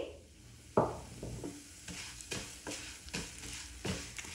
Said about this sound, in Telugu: ఇప్పుడు ఇదే నెయ్యిలో సేమియా వేసి వేయించుకోవాలి